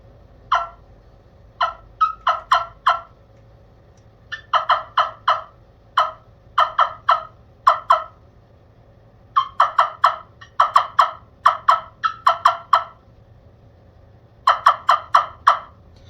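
Repeated bursts of turkey gobbling and yelping from an air-operated turkey call, short rhythmic clusters of sharp notes separated by brief pauses, loud and close.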